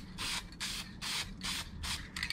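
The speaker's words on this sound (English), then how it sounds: "And then maybe just another little light spray right there." Aerosol spray coating being applied to a seashell during restoration, four hissing bursts of about half a second each with short gaps between, close and fairly loud, then a shorter final spurt.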